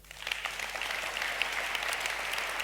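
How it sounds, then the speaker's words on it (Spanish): A church congregation bursts into applause, rising quickly to a sustained, even wash of many hands clapping at a moderate distance. "dale un aplauso al Rey"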